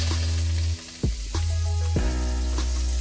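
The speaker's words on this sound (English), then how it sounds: "let that sizzle." Butter melts with a steady sizzle in a pan, cooked for Jamaican chicken and shrimp fried rice; the hiss is loud and close, broken by a few brief clatters and stirs.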